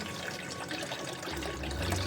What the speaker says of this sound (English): So I'm going to get the bleach and pour it in